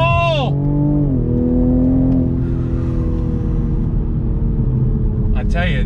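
A 2020 Toyota Supra sports car's engine revs hard and loud, falling in pitch through braking and downshifts, with a rising rev near the end, heard up close from inside while a person talks excitedly over it.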